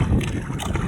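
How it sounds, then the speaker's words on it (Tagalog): Strong northeast wind buffeting a small fishing boat at sea, a loud continuous roar of gusting air and rumbling microphone wind noise with faint water sloshing beneath, close and unbroken. "Lakas yung hangin mga kanay."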